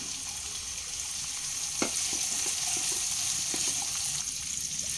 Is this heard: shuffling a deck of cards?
no